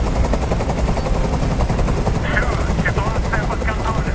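Helicopter rotor whir in the Detroit Become Human video game, a steady loud thrum heard with gunfire-like bursts and a game soundtrack.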